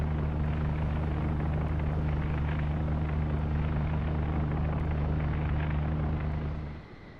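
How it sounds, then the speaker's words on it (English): Aircraft droning overhead in the submarine game Uboat, a loud, steady low engine rumble that holds for several seconds before fading out near the end, with no voices. "Must be another aircraft up there as well."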